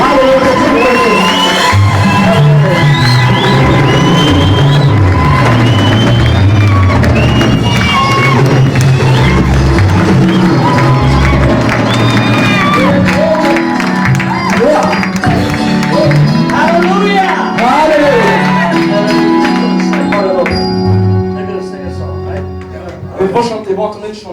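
A church congregation at a service with a reverend cheers, whoops and applauds to welcome the preacher, a loud sustained roar of many voices under an amplified speaker before fading near the end.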